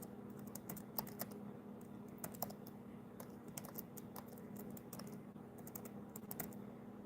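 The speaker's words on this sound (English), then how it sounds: "Candy, I'm practicing my typing so I can get, there's a job I want to get." Fingers tap quickly on a computer keyboard at close range, making light irregular clicks in short bursts over a low background hum, with no talking.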